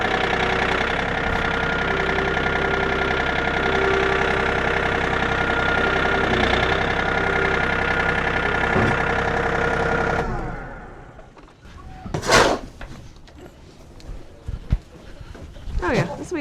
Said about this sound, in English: Let me do the tractor.